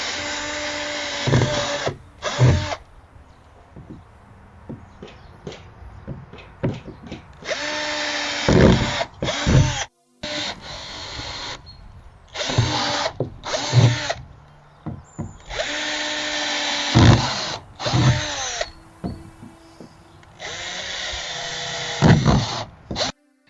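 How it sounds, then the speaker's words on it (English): A power drill whines in repeated bursts, boring rows of holes into a plastic wheelie bin one after another with short pauses between, loud and close, with brief clattering handling noises. "we're just going to drill them in nice rows"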